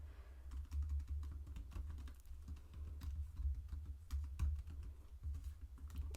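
Quiet, steady typing on a computer keyboard while code is written, a continuous patter of soft key clicks close by with a low background hum and no speech.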